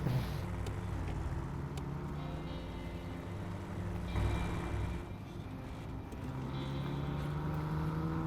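A truck engine in the video game SnowRunner drones steadily and rumbling at moderate volume, its pitch shifting slightly partway through, with no voices over it.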